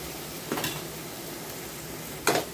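Onions sautéing in a pan while cooking white sorghum upma: a steady soft sizzle with two brief scraping stirs of a spoon against the pan.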